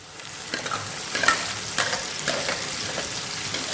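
A ground paste of five onions and five tomatoes for a spicy green gram and brinjal kuzhambu hits a hot pan, sizzling under irregular scraping stir strokes, close and moderately loud.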